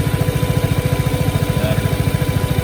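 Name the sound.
Vespa GTS 300 scooter cooling fan running loudly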